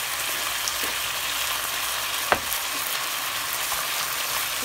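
Strips of beef short rib stir-fry in a hot pan, giving a dense, even sizzle that runs steadily throughout, with one brief soft knock partway through and no voices.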